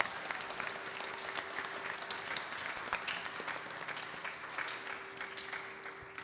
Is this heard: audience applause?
yes